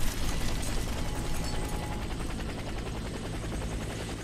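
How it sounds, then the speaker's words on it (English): A helicopter in a console shooter game drones with a steady, loud rotor chop throughout, close and continuous, with no voices over it. "Soldier, proceed to the helicopter."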